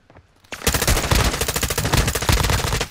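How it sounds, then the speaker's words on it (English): Loud, rapid automatic gunfire erupts in Warzone DMZ after a brief quiet moment, a sustained burst of close machine-gun fire that runs on without a break. "He's shooting me."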